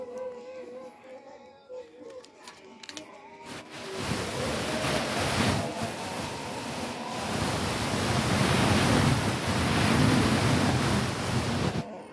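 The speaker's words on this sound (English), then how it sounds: "Ready for takeoff." Thai Airways airliner on flight TH839 to Bangkok taking off, heard from inside the cabin: after a few quieter seconds, a loud, steady broadband roar rises and swells for the rest of the clip.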